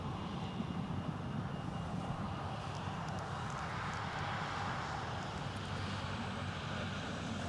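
Out on the apron at Newcastle Airport, a Saudia Boeing 787-10 Dreamliner is pushed back by a tug, giving a faint, distant, steady jet-engine whine and roar mixed with wind buffeting on the microphone.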